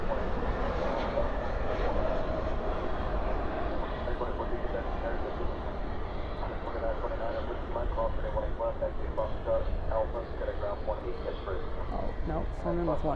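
A jet airliner lands at night at Dallas Fort Worth airport with spoilers up and thrust reversers out, making a continuous loud rumbling roar throughout while someone talks over it.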